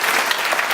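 Audience applause at a university leadership lecture, a dense steady clapping from a crowd in a campus hall, loud and continuous with no pauses.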